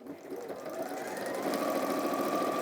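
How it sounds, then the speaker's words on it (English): Sewing machine stitching quilt binding a quarter inch from the raw edge, a steady close hum and whir that builds slightly and runs continuously. "I'm sewing a 1/4 inch from the raw edge"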